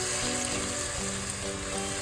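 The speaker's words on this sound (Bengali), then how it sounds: "তারপরে নাড়াচাড়া করতে থাকবেন" Green pea paste fries in a wok while being stirred, producing a continuous close sizzle with faint scraping movement and no one talking.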